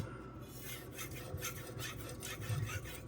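A kitchen knife, a cheap Nakiri, is stroked steadily across a Suehiro Debado whetstone of 600 or 1500 grit. It gives a continuous wet rasping scrape with rhythmic back-and-forth passes, close and moderately quiet, with no talk.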